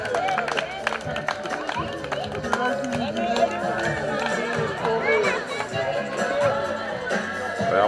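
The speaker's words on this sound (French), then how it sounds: "On applaudit." Guests at a baptism celebration clap and cheer in a lively room, steady scattered applause mixed with crowd chatter and voices talking over it throughout.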